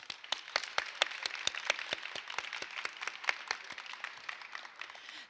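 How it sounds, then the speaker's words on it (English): Sparse, rhythmic clapping from a convocation audience of school staff, individual sharp claps spaced fairly evenly and heard clearly without talk over them. "we want to give you a round of applause"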